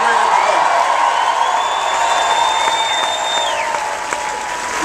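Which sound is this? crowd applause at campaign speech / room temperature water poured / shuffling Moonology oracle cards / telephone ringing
crowd applause at campaign speech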